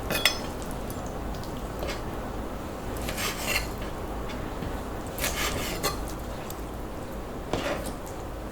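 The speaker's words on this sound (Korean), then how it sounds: "데친 낙지도 한 입 크기로 썰어줄게요." A knife slices blanched octopus (nakji) into bite-size pieces on a cutting board in a home kitchen, making soft repeated chopping and scraping taps in irregular clusters against steady background noise.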